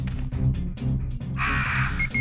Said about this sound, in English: Crows, heck yeah.